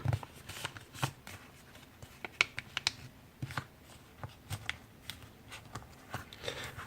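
Paper being folded into a paper airplane gives soft, close crinkles, creases and taps in a quick irregular series, with no talking.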